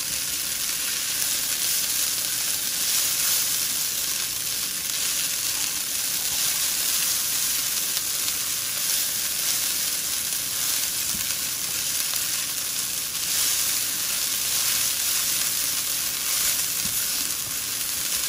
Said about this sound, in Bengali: চিড়াটা আমার ভাজা হয়ে গিয়েছে